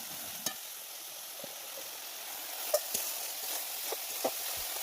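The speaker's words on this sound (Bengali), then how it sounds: "আমার কিন্তু এখানে মশলা কষানো হয়ে গেছে" Spice paste fries in a pan with a steady soft sizzle, while a spoon stirs it, scraping and knocking lightly at irregular moments.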